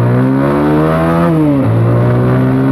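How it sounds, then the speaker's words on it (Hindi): A motorcycle accelerates hard in first gear, its loud, close engine tone climbing steadily before a brief dip and a renewed rise. "ये डाल दिया इसमें फर्स्ट गियर मैंने, और चलते हैं देखते हैं कितनी जाएगी फर्स्ट गियर में"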